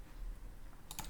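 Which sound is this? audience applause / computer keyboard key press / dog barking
computer keyboard key press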